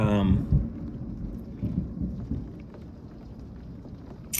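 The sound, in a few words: rain during a thunderstorm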